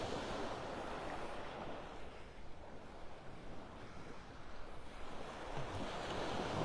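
Surf washing onto a mile-long beach in North Naples, Florida, a steady close roar of breaking waves mixed with wind buffeting the microphone, no voices.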